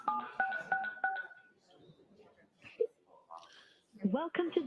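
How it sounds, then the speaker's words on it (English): Telephone keypad tones sound while dialing into a Zoom for Government court hearing, a quick series of crisp beeps at the start, followed by quieter electronic tones and a voice speaking. "They're dialing in."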